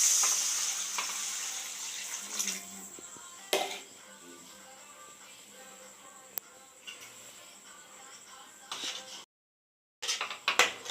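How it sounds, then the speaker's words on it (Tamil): Tamarind water is poured into a pan of sautéed masala for a prawn curry, giving a hissing sizzle that fades, with a few brief clatters and knocks and a short silent gap near the end. "புளி ஊற்றிக்கலாம்."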